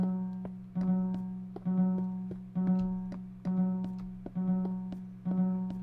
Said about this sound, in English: And if you listen closely, you can hear the alarm going off right now.